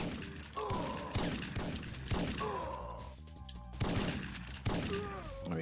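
Enemy shotgun fire in Syphon Filter, a series of heavy booming shots at irregular intervals, each with a short ringing tail, over game music and ambience.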